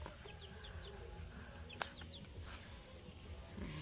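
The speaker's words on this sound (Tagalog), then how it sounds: "mga manok galakaw-lakaw" Chickens roaming a farm cluck and chirp in short, faint calls over a steady outdoor background hum, with one sharp tap partway through.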